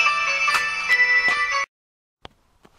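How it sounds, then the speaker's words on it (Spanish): Electronic phone ringtone from an incoming call, a loud sustained multi-tone melody with rhythmic pulses that plays for about a second and a half, then cuts off abruptly into near silence with a couple of faint clicks. "ahora me ha llamado por teléfono"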